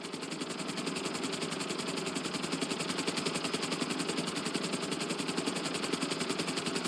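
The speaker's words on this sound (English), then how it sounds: "keep the nose of the helicopter tipped" In GTA V, a helicopter flies at full speed with its nose tipped down, giving a steady, loud engine drone and a rapid, even rotor chop that stays constant throughout.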